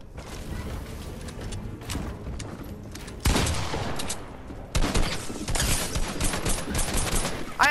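Fortnite gunfire rings out in bursts of rapid shots with mechanical clatter, loud and close, the densest volleys coming in the second half.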